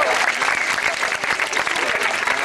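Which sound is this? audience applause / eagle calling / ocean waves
audience applause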